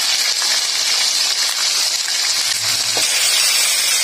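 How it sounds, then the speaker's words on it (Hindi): Chicken frying on high flame in about 500 grams of oil with salt for Shinwari chicken karahi, giving a steady, bright sizzling hiss close by. There is a faint clink near the end. "इसको हमने हाई फ्लेम पे जो है फ्राई करना है।"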